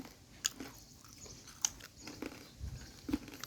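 Crunchy potato chips being chewed close up, quiet crisp bites and crunches at irregular intervals, about four distinct snaps over soft background.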